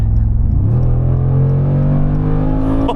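A Mercedes G-Wagon Brabus 800 in Sport Plus mode accelerates hard, its engine note loud and close and climbing steadily in pitch as it pulls away.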